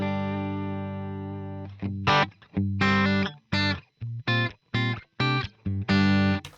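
Electric guitar played through Dweezil Zappa's amp model in a Fractal FM3 with the bright switch on, a sustained clean glassy chord followed by a run of short, sharply picked chords and notes, loud and alone.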